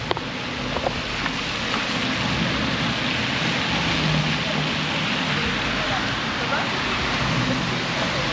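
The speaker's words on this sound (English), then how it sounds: "And it is raining." Steady rain in Concord, New Hampshire hissing across the whole clip, a dense, even wash of noise with faint low rumble, constant and fairly close, with no voices.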